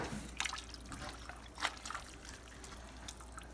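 Dipper ladling collard greens simmered three hours with ham hocks from a pot, producing faint liquid sloshes, drips and a soft clink, scattered and close in an otherwise quiet kitchen.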